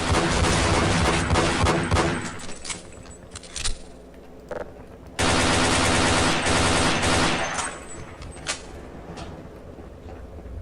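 Sustained automatic gunfire from a magazine being emptied in Half-Life, loud and dense bursts with a brief pause, then another heavy rattling volley resuming before tapering off.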